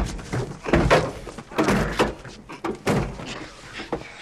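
Several loud car door slams and thunks in quick succession during a tense street confrontation in the film 48 Hrs., with sharp bangs spread irregularly across the moment.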